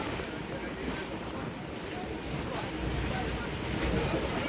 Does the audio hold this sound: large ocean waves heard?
yes